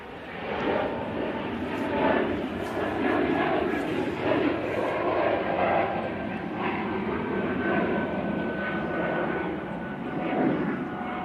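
An airliner taking off at Manchester Airport, its engines a broad, sustained roar that holds steady at a moderate distance for the whole stretch.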